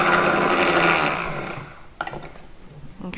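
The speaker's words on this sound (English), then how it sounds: "we're gonna blend now and it's gonna get noisy" Loud whirring of a blender mixing protein snack ingredients with blueberries, running steadily for about a second and a half before winding down, followed by a few small knocks.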